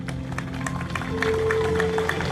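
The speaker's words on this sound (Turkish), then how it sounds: "Efendim kuvvetli alkışlarınız eşliğinde" Audience applause at an outdoor regional food event with stands, a steady wash of many hands clapping at moderate distance, with a faint sustained tone and crowd noise underneath.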